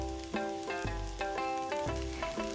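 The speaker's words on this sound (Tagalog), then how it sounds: "Isunod na rin natin yung bahaw o yung kaning lamig" Leftover cold rice frying in a hot pan, a steady close sizzle with rhythmic scraping stirs repeating about every half second.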